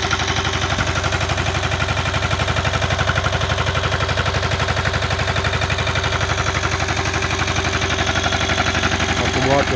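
A BCS walk-behind mower with electric start runs its engine in a rapid, even putter that stays loud and steady from start to finish.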